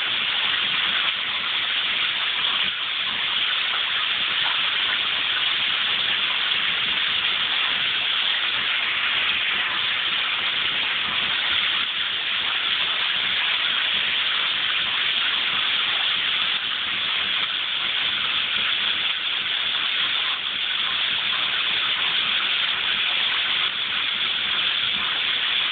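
Steady shower water sprays and hisses without a break, loud and close, with no talking.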